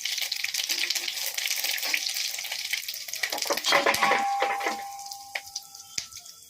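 Whole garam masala spices sizzle and crackle loudly in hot oil, a dense steady frying hiss that thins out toward the end, with a few sharp clinks of a utensil and no one talking.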